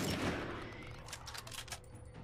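Gunfire in The Last of Us video game: a few faint, muffled shots pop in a quick cluster after a dull rumble, low in level and fairly distant.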